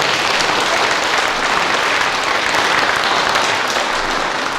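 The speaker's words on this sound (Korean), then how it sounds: "박수 한번 보내주시죠." An audience at a formal commemorative ceremony claps together in a dense, sustained round of applause that stays even and full from start to finish.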